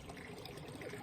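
Water flowing in a garden at a temple in the Japanese countryside, a faint continuous trickle and splash with no talk.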